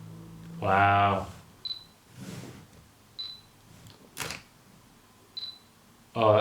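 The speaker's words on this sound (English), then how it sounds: "Oh, that shutter noise as well." A Fujifilm camera shutter fires several crisp, separate clicks at irregular intervals, close and clear, between bursts of a person talking at the start and end.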